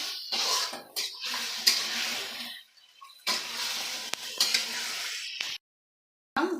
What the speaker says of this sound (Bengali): এবার গোশটাকে ভাজা হবে।